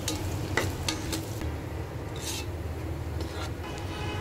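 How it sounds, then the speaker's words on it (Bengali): Chopped onion sizzling in hot mustard oil in a pan, a steady crackling fry broken by a few sharp spattering pops and stirring scrapes, close and moderately loud, with no talking. "তেলটা যখন গরম হয়ে যাবে দিয়ে দিব পেঁয়াজ কুচি।"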